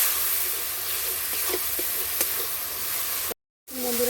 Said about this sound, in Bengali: এবার আমি দিয়ে দিচ্ছি অল্প করে জল।